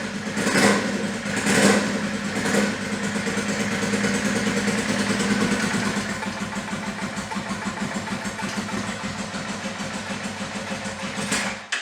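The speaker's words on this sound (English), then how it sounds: "The idle's really low. And it doesn't like to rev when it's cold." A beat-up Honda 400EX ATV engine idles low and rough while still cold, giving a few quick blips of revving early on before settling into a steady, clattery idle close by.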